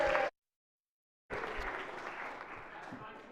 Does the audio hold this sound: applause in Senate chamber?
yes